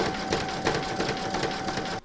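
An embroidery machine satin stitching in the hoop gives off a steady, rapid mechanical chatter with a faint whine, close and continuous for about two seconds before it abruptly stops.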